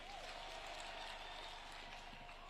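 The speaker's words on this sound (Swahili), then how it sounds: "Makofi kwenu." Applause from a church congregation, a steady continuous clatter of many hands clapping at once, moderately distant and even throughout.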